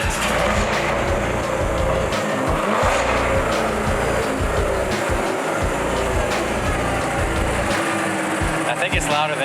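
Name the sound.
loud car engine accelerating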